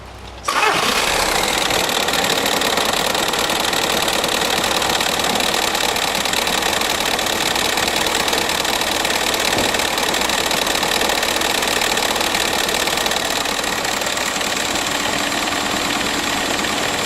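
A 2006 Volkswagen Passat TDI diesel engine fires up abruptly and settles into a loud, steady running drone with a clattery, knocking diesel texture that continues unbroken to the end, with no voices.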